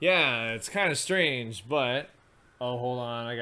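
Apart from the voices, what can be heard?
None of the usual background noises is heard.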